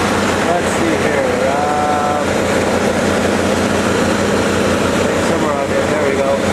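A 1981 Chevy G30 Lazy Daze RV with a rusty 5.7-liter (351) gasoline V8 runs after a cold start, making a loud, steady drone that fills the whole stretch while someone talks over it.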